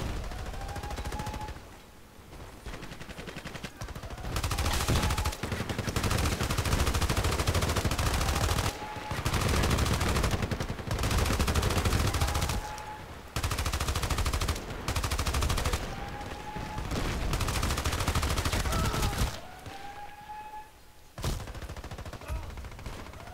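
An M249 SAW machine gun fires in an online shooter game in long, loud sustained bursts, separated by short pauses and sharp single reports.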